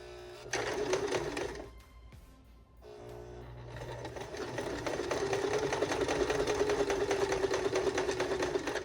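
Home sewing machine top stitching the fabric of a beginner-friendly bag, running in a steady continuous whir that breaks off briefly near two seconds and then resumes, growing slightly louder and holding to the end.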